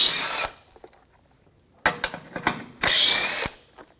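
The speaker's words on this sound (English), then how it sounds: "Take these front bolts out." Power tool or ratchet spinning out front bumper bolts with a 10mm socket on a 2013-2019 Ford Escape, in three loud bursts separated by quieter clicks and handling noises.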